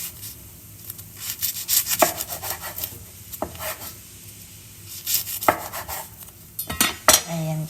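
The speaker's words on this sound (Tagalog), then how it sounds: "Tapos i-cut natin." A knife slicing through a homemade sushi roll on a board: repeated sharp cutting strokes and scraping rubs come in irregular bursts, close and moderately loud, with no talking.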